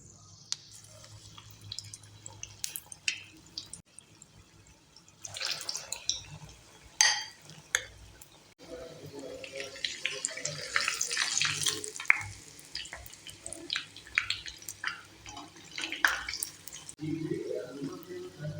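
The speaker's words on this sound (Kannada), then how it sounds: "ಲೋ ಫ್ಲೇಮ್ ಇಟ್ಕೊಂಡು ಒಂದು 2-3 ನಿಮಿಷ ಫ್ರೈ ಮಾಡ್ಕೊಂಡಿದ್ದೀನಿ" Palak pakoda fritters of spinach batter deep frying in hot oil over a low flame, a steady soft sizzle with irregular crackles and pops that swell in the middle stretch, no talk over it.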